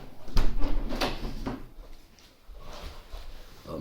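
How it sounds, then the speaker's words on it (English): A room door being shut: a sharp thud and a few knocking, rattling bumps in the first two seconds, then quieter shuffling, fairly close with no talk. "let me just close the door and"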